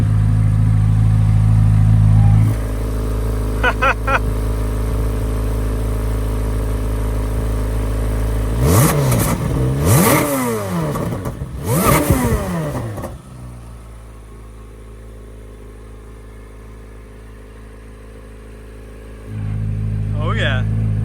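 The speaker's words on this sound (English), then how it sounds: "what the car sounds like with its different exhaust notes" A 670-horsepower 2024 Chevrolet sports car idling with its exhaust in stealth mode, a low steady rumble broken by two sharp, loud revving bursts in the middle that echo, then settling back to idle with people talking nearby.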